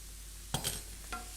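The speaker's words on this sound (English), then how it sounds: "So finely chop the garlic. Okay, and that goes into the pan. All right, so let this fry off. I can hear it sizzling." Garlic, finely chopped, frying in a pan during a live cookery demonstration, giving a soft steady sizzle with a couple of brief stirring scrapes and clinks close by.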